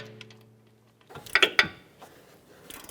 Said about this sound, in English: We'll go ahead and tighten this up.